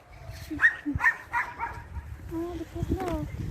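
A few short, close dog barks and yips scattered over a few seconds, with people talking nearby.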